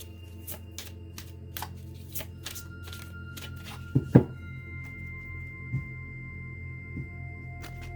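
Tarot cards being shuffled and handled at a reading table, giving a run of soft, quick riffling flicks and a few louder slaps near the middle and later, with a quiet background hum and no talking.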